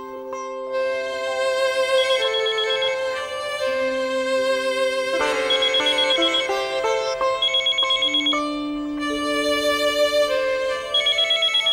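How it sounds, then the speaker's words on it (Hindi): A telephone ringtone plays on, a bright electronic melody of repeating chiming tones that carries on steadily and loudly with no voices over it. "तुलसी का फोन है।"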